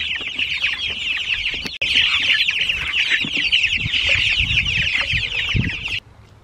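Baby meat chickens clucking and peeping in a dense, continuous chorus, close and loud, with a brief break partway through before the chatter resumes and then cuts off.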